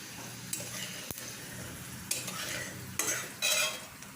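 Whole cumin seeds and dried chilli frying in hot oil for an egg and pointed gourd curry: a steady soft sizzle broken by a few sharp spoon clinks and louder stirring scrapes, with no talking.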